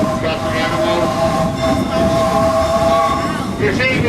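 Steady rumble of a genuine steam-powered train on the Disneyland Railroad at night, heard from on board with clattering wheels and a faint whistle-like tone, loud and continuous, with no talking.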